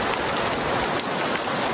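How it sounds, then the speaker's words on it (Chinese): Heavy afternoon thunderstorm rain in a mountain area, a dense, steady hiss of downpour on surfaces mixed with gusting wind, continuous and loud throughout without voices. "除了下大雨、刮大风"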